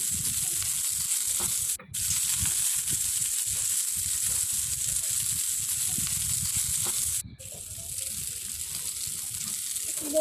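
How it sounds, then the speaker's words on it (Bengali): Garlic with red and green chillies frying together in oil makes a continuous close hiss with a faint crackle, broken by two short drops in level. "সব কিছু একসাথে ভেজে নিচ্ছি"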